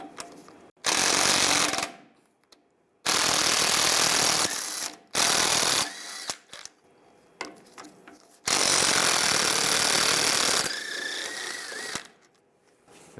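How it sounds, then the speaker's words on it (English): A tool spinning off the lower shock bolts with a 15mm socket on a 2007-2013 Chevy Silverado 1500, loud rattling bursts of one to three seconds separated by short quiet gaps. "Now we're going to remove these two lower shock bolts."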